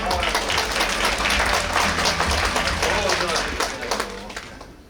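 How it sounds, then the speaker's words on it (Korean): At a World Heritage festival forum in Suncheon, an audience applauds as the mayor comes up to the stage. The thick, loud clapping rolls on steadily, then tapers off near the end. "큰 박수 부탁드리겠습니다"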